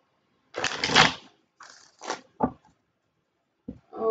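Tarot cards shuffled in the hand, heard as several brief, close papery riffles and rustles in separate bursts with short silences between them.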